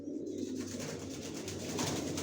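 Young long-distance racing pigeons of a big-sized breed cooing close by, a soft, continuous low burbling with rolling throaty pulses and no talk.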